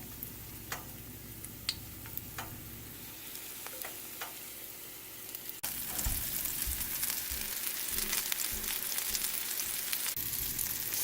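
Coconut shrimp go into about two tablespoons of coconut oil over medium heat; a quiet, sparse crackle swells partway through into a louder, busier sizzle with popping bursts.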